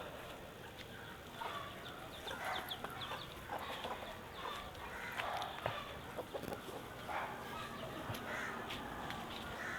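Country chickens clucking and crowing around their coop in the morning, a busy overlapping chorus of calls at moderate distance over steady outdoor background noise.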